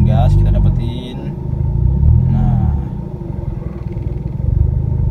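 A manual car engine idling low in first gear at the clutch bite point, a steady close rumble under continuous talking.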